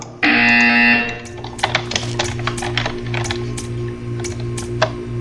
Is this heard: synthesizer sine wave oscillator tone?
no